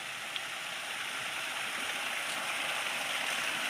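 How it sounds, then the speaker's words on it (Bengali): A small village waterfall pours in a continuous, even, broadband rush of falling water, close and steady with no voices. "একটা ছোট্ট ঝর্ণা খুব সুন্দর লাগছে খুব মিষ্টি লাগছে"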